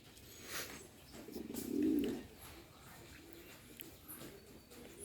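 A Rajshahi Giribaj pigeon coos in a single soft, low rolling phrase that swells and fades, with faint ambient noise before and after and no other clear sounds.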